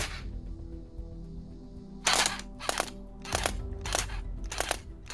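A Recoil RK-45 Spitfire toy blaster fires five sharp, crackling bursts in a quick irregular series after a low electronic hum, each shot brief and bright.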